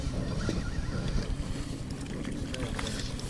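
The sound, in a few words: fishing boat motor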